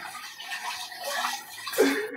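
A toilet flushes with a close, steady rush of churning water that swells louder near the end of the short burst.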